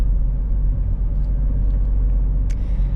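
Steady deep exhaust drone and engine rumble from a 2018 Alfa Romeo Stelvio Quadrifoglio driving on country roads, continuous and fairly loud with no talk.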